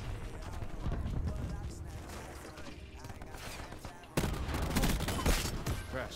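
Gunfire in a first-person shooter game: dense, sustained bursts of shots that jump sharply louder near the four-second mark, with game voice callouts mixed in.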